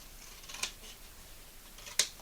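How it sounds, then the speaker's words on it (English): Scissors snip through buckskin leather to clip seam allowances on a shirt pocket piece, giving two crisp, close cuts about a second and a half apart over quiet room tone. "clip off those seam allowances on this pocket piece"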